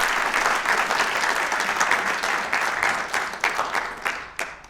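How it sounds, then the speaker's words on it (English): An audience at a traditional Irish music master class in New York gives a sustained round of applause, dense clapping that stays loud throughout and thins slightly near the end. "I'd like you to give a round of applause to Bill Ochs here"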